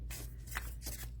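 Unity Oracle cards shuffled sideways by hand, a close, quiet run of crisp papery riffles in a few quick bursts, with no voices.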